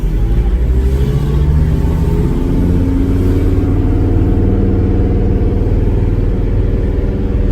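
A 1991 Toyota Land Cruiser PZJ77 pulls away with a loud, steady, deep engine rumble that keeps a constant low drone from the cabin.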